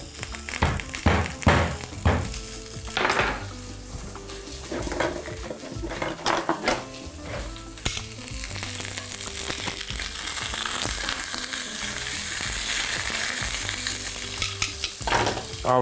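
Beef tenderloin frying with garlic in olive oil in a pan, a steady loud sizzle building through the clip, with stirring clatter, utensil knocks and pan thunks near the start and end.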